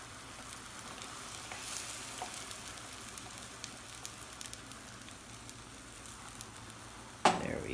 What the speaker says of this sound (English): Go ahead and pour the eggs in. I'm going to turn that heat down.